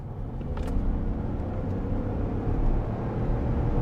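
A 2018 Ford Expedition with the 3.5 EcoBoost engine accelerating up a freeway on-ramp, heard from inside as a steady, dense engine and road rumble that holds loud and even throughout.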